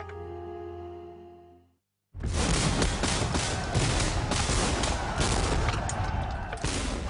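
Canister shot blasting from 1815-era artillery cannons, a thunderous sustained roar of gunfire that erupts after a brief hush and continues loud and dense, with a musical tone fading beforehand.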